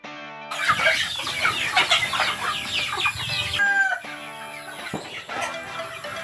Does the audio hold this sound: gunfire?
no